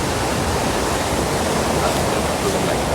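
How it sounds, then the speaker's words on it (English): The main cascade of Kintampo waterfall in Ghana roars as a dense, steady rush of falling water, loud and unbroken throughout. "That is the main waterfall."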